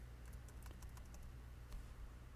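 A short burst of typing on a computer keyboard, a handful of light, quick key taps over a low steady hum, close and quiet, no speech.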